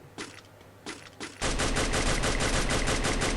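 Gunfire in the Free Fire video game aimed at a car: a few separate shots first, then a loud, sustained rapid automatic burst that runs to the end, with no talking.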